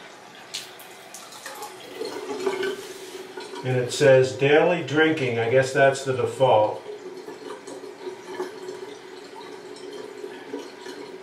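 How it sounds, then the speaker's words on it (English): Water runs from an Aqua Ionizer Deluxe 7.0 water ionizer into a sink in a steady trickle with splashing, while someone talks over it and a machine voice speaks briefly. "Now, I'm gonna turn the water on one more time here."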